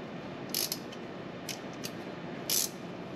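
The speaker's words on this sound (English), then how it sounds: "Let me try maybe a wrench." Wrench working on a new tilt steering column in a 1957 Chevrolet Bel Air restomod, a few short, sharp metallic clicks and ratchet ticks spaced irregularly over a low, steady background hum.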